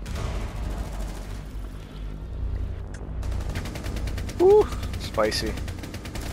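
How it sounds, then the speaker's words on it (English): Rapid automatic gunfire in the Rainbow Six Siege video game, sustained bursts under a player's short excited exclamations. "Just don't stop shooting."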